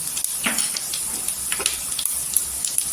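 Mustard seeds crackle in hot oil alongside golden-fried garlic, a tempering for Maharashtrian fodniche varan; a steady close sizzling hiss runs throughout, broken by scattered sharp pops, with no talking.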